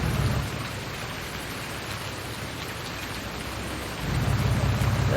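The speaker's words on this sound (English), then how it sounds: "Certainly going to be interesting with this thunderstorm." Steady rain from a thunderstorm in Farming Simulator 19, a continuous wash of falling water with heavier rumbling swells at the start and end, no voices.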